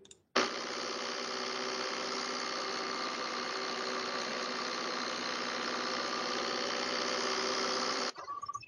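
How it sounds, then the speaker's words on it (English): Filtered electric motor from a vibro-acoustic simulation, heard with its windings removed: a steady, dense synthetic whine with stable tonal lines, starting abruptly and holding at constant level for about eight seconds before cutting off. "that's probably be the only motor sound, and I can listen to it"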